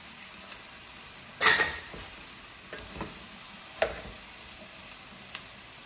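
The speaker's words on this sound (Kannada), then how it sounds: "ಈಗ ಇದಕ್ಕೆ ಬೇಯಿಸಿಟ್ಕೊಂಡಿರುವಂಥ ಪಾಸ್ತಾನ ಕೂಡ ಹಾಕ್ತಾಯಿದ್ದೀನಿ." Boiled pasta tips into a pan of fried vegetables with a soft sizzle, followed by a few sharp clinks and scrapes of a spoon stirring against the pan, fairly close and without talk.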